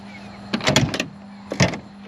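A hazmat tanker truck door unlatches and opens with a couple of mechanical clunks and rattles over a steady low engine hum.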